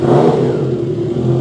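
A 2024 Triumph Trident 660 motorcycle engine runs steadily at close range, a loud continuous mid-pitched hum and drone with slight clatter, with no one talking over it.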